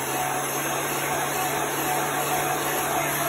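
A heat gun blows while drying chalk paste, producing a steady, continuous whooshing airflow with a faint underlying motor whine, constant and close with no breaks.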